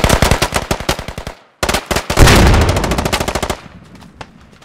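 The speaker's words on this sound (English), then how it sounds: "They're calling for the BTR to open fire now." A BTR armored vehicle opens fire in a military shooter game, loud rapid bursts of heavy automatic gunfire hammering in tight rhythmic volleys with a brief pause between them.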